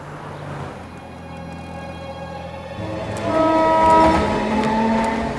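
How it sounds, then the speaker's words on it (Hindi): A train pulling out of a station, with a horn sounding and rolling rail noise building up from a low rumble to a louder, busier wash of sound partway through. "ट्रेन चल पड़ी।"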